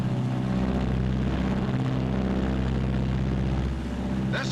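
B-26 bomber engines droning during a climb, a loud steady propeller roar with layered throbbing tones holding constant throughout.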